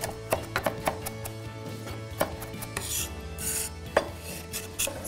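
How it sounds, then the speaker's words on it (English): Rough chopping of fresh parsley with a knife on a board, a run of sharp irregular taps with short pauses, close and clear with no talk. "and then again, a bit of rough chopping."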